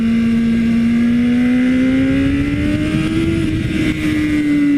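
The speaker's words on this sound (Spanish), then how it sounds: "Y no puedo creer que sea el escape de serie, Suena muy bien" A BMW S1000RR sport motorcycle on its stock exhaust revs steadily and loudly up close, the engine note climbing gradually in pitch and holding high, with no talk.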